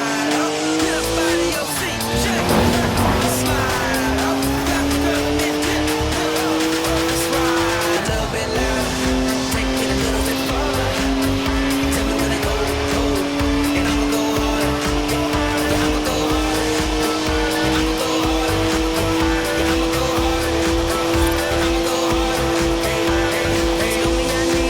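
A rear-wheel-drive BMW with 50-50 weight distribution drifting in Forza Horizon, engine note rising and falling steadily with loud, sustained tire squeal and skidding throughout, continuous and close.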